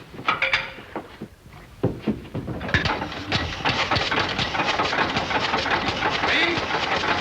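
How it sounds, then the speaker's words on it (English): An old car engine turns over and then settles into a steady, loud running drone with mechanical clatter, while a voice briefly speaks over it near the start. "Keep that engine running."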